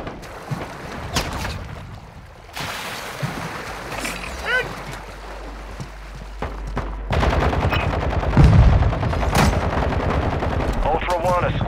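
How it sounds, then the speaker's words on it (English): Bursts of automatic gunfire and explosive cracks in the Call of Duty DMZ shooter game, loud rapid volleys intensifying toward the end, with brief radio-style voice lines over the combat. "You are taking effective fire."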